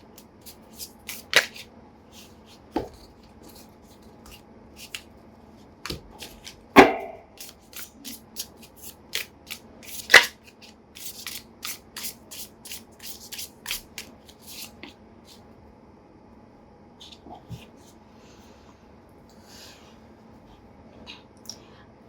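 A deck of tarot cards is shuffled by hand in a quiet room, with scattered close riffles, soft slides and sharper snaps coming in irregular bursts.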